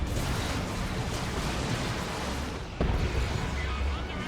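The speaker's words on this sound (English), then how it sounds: "Oh, Hell Fury Strike called in by the Inquisitor." Hell Fury Strike explosions land in a Dawn of War 2 multiplayer battle, a dense rolling rumble of blasts with one sharp, heavier impact near the end, loud and continuous.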